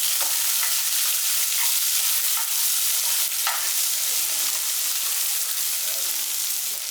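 Small shallots and large onions fry for sambar in a steady, loud sizzle with occasional crackles and light stirring, close by and continuous, with no voices.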